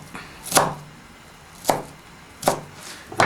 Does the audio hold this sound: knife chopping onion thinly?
yes